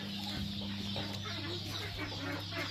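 A chicken on a poultry farm clucks in a quick run of short, close calls over a steady low hum.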